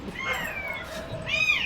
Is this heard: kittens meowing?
yes